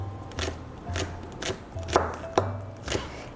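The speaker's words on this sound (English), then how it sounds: "And then we just want to chop this really finely." Knife finely chopping green onions on a cutting board, six or seven crisp evenly spaced chops about half a second apart, close and clear with no talking.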